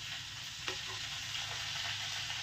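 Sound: okra cooking in a pan

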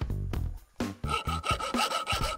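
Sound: sawing a soap box

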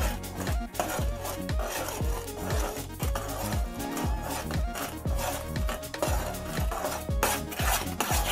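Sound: stirring melted butter into egg foam in a bowl

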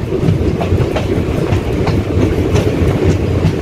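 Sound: train arriving at night station

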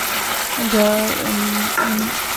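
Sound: vegetables being sautéed in a pan

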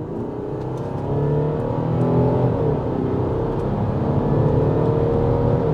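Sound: diesel car accelerating at full throttle

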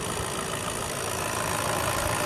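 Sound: van diesel engine idling

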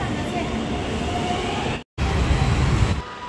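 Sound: metro train riding

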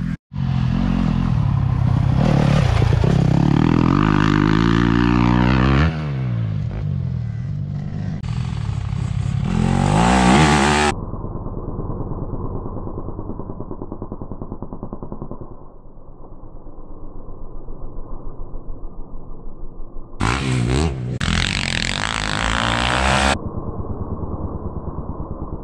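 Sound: dirt bike engine revving during seat bounce jump

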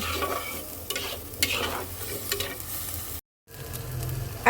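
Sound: stir-frying spice paste with turmeric and coriander

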